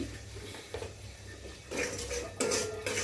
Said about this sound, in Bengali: সবজি কাটাকাটি করে নিচ্ছি